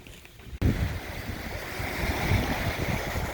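Wind and surf on Point Farms beach below the bluff, a sudden blustery gust buffeting the microphone and then a steady roar of breaking waves and wind.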